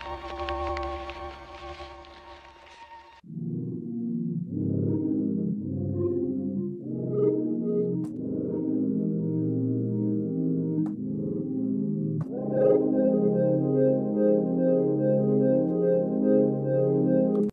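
A lo-fi sampled instrument patch in the Waves CR8 sampler plugin plays a steady chordal pattern with soft, slightly grainy tones, rising to a fuller layer near the end after a brief opening burst.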